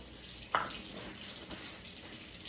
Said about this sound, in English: I wash my hands with hot water